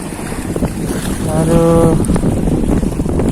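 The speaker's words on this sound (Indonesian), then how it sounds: "lagian nih anginnya udah besar nih, angin timur dari sana nih arah nih" Strong east wind buffeting a small fishing boat at sea, a loud, constant roar of wind noise over the water, with a short exclamation from a man partway through.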